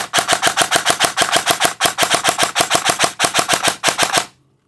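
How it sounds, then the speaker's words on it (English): An SSR74 airsoft rifle dry fired with no BBs loaded gives rapid full-auto bursts of sharp mechanical clacks, several strings in quick even rhythm, loud and close with no voices. "Now you can dry fire it a couple times to get the air through."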